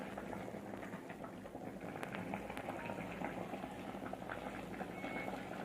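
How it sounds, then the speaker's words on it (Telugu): Water drains from boiled rice through a strainer, a soft, continuous bubbling and pattering trickle that stays faint and steady throughout, with no voices. "ఏదన్నా జాలి తీసుకొని రైస్ను ఇలా వాటర్ అంతా వెళ్ళిపోయేటట్టు"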